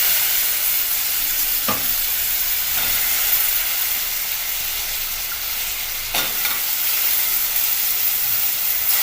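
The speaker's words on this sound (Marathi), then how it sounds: "टाकल्यावर मसाल्यात फ्राय करायचं, ते एकजीव करायचं मसाल्यात." Val beans, aubergine and potato frying in oil with dry masala give a steady, close sizzle and hiss, broken by a few brief stirring scrapes.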